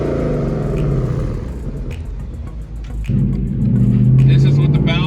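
A 2019 Ford Mustang GT with a Borla Atak active exhaust, valves fully open, makes a loud, deep rumbling exhaust note that swells as the engine revs, close by, with someone talking over it.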